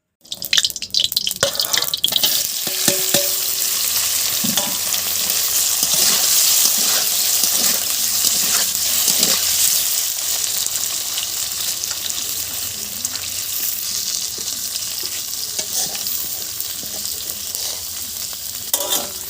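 Large pieces of paneer frying in hot oil sizzle and crackle steadily for a long stretch, with occasional pops and stirring clinks, close and fairly loud.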